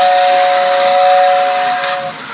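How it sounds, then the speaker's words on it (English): Loud steady hissing whistle from a restored 1955 Lionel toy steam train, one continuous blast with steam hiss that fades slightly at the end. "Here is your train coming around the corner there."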